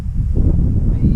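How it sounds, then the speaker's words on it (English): Wind gusts at an outdoor farm, buffeting the microphone in loud, low rumbling bursts that rise and fall over a short stretch. "The wind sort of started gusting a little bit"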